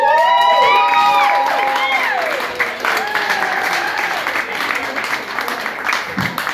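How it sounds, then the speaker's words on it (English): A comedy-club audience applauds and cheers as a comedian is introduced, dense clapping with whoops that starts loud and gradually thins out. "Put your hands together for Mr."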